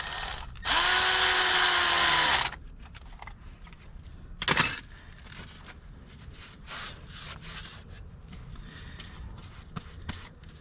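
A power tool whirs loudly in one steady burst of about two seconds while tightening down a boot on a Mendeola 2D flange drive seal. A short clunk follows, then faint handling noises.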